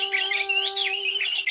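A bird squawks in a short, shrill burst of harsh chattering calls, close and clear over a faint steady hum.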